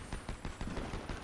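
Rapid gunfire from a Fortnite Zero Build firefight, with repeated sharp bursts crackling in quick succession across the short stretch, loud and close with no talking.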